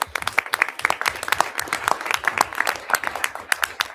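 Audience at a school board meeting clapping for National Merit finalists, a moderate, uneven patter of individual claps from a smallish crowd, close and steady throughout.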